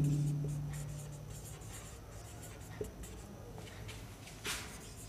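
Pen writing an English sentence in a notebook during a grammar lesson: faint, steady scratching strokes across the whole stretch, with a brief tap partway through and a slightly louder stroke near the end, no speech.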